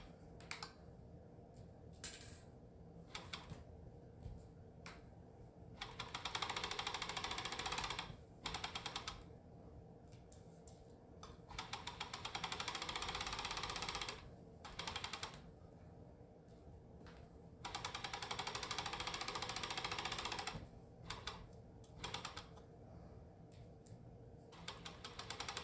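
A sewing machine stitching a Vogue 1929 top runs in several bursts of rapid, even mechanical clatter, with quieter pauses between runs and a soft, close tone throughout.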